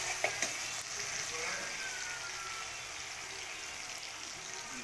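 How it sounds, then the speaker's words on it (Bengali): Onion and tomato fry in a kadai with a continuous close sizzle and occasional stirring scrapes, steady throughout with no talk. "এই যে কড়াইয়ে আমি পেঁয়াজ আর টমেটোটা একটু হালকা ভাজা ভাজা করে নিই"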